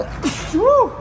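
A single sharp sneeze in a garage during burnout and dyno testing, loud and close, followed by a short exclaimed voice.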